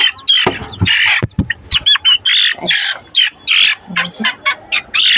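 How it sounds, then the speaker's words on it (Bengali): Several desi chickens squawk and cluck loudly up close, a burst of harsh overlapping cries followed by a rapid run of short, evenly spaced clucks, with no talking. "এই যে এই তিনটে হচ্ছে দেশি মুরগি, আর এই নিচে অস্ট্রেলিয়ান আছে"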